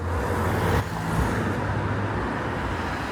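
Night street traffic heard as a continuous mid-level roar of cars and heavier vehicles passing, with a low engine drone swelling and fading, no voices.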